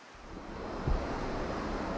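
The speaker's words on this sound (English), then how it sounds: "Here comes the wind again." Gusty wind of roughly 12 to 25 mph buffets an external camcorder microphone fitted with a wind muff, a steady low rumble that swells briefly in a stronger gust near the middle, with no talking.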